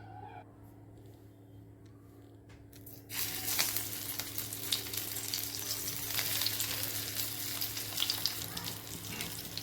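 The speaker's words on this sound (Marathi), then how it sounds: "आता याला लाल कलर येईपर्यंत फ्राय करायचे" Poha and pea cutlets hit hot oil in a kadai and break into a loud, continuous sizzle that holds steady after a quiet start.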